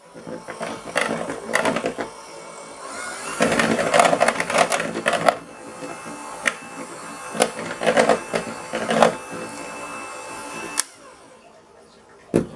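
Lime zest being mixed into key lime pie filling in a bowl, heard as irregular bursts of clattering and scraping that come in clusters, close by and moderately loud, with quieter gaps between them.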